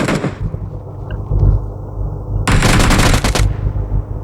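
UMP submachine gun fire in PUBG Mobile: a loud, close burst of rapid automatic shots at the start, then a quieter stretch of game ambience, then a second dense, sustained burst of fire.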